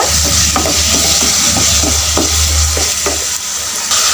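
Chopped tomatoes sizzle loudly in a hot pan while a utensil stirs and scrapes at intervals.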